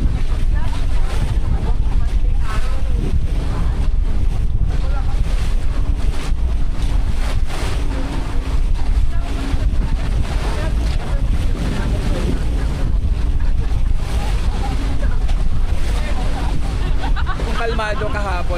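A boat crossing rough, choppy sea off Maniwaya Island, Marinduque, with loud, continuous wind buffeting the microphone and a steady engine and water rush throughout, while people talk faintly underneath.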